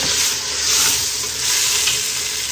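Chopped tomatoes just added to lightly browned onions in a hot pan for Hyderabadi mutton curry, giving a steady, close, continuous sizzle and crackle with no talking.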